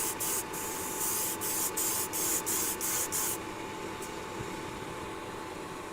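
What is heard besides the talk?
airbrush spraying caliper paint coat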